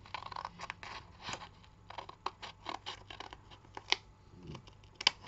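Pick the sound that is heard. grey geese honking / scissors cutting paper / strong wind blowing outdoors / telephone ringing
scissors cutting paper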